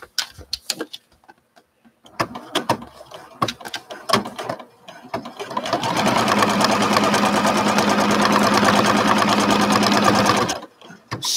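A sewing machine stitches fabric, first a few scattered clicks and short bursts, then a steady, close, loud mechanical whir for about five seconds before it stops.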